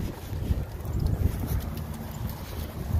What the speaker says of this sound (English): I don't mind the wind too much